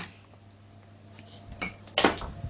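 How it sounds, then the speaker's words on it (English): A baking dish of cheesy baked mac and cheese slides into the oven, with a short rattle of metal and dish clatter followed by a louder clunk as it settles on the rack near the end. "I'm going to take it now and put it into the oven."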